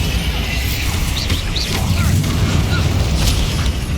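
Bombarda spell explosion from the Hogwarts Legacy video game, a dense booming blast that rolls on for several seconds amid continuous loud combat effects and crackling magic.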